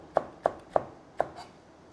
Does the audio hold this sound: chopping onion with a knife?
yes